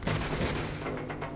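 A short, dense burst of gunfire from a video game, rapid overlapping shots that crackle loudly and close for just over a second.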